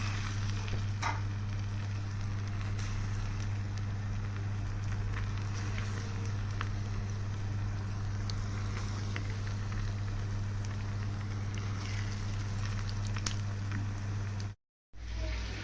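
Breaded beef brain fries in plenty of hot oil in a pan on the stove, a steady dense sizzle and crackle throughout with a few sharper pops, cut off by a brief silence near the end.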